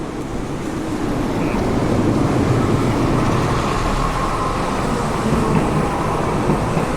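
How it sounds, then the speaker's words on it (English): A passing train, with a railroad car bearing a hand-drawn Coca-Cola design, rolls by outdoors as a steady, loud rumble that holds for several seconds with no talk. "Coca-Cola hand-drawn train."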